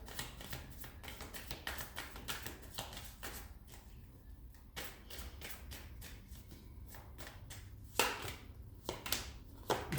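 Tarot cards being shuffled by hand at a reading table, a faint, close run of quick papery riffles and soft taps, repeated in bursts with short pauses between them.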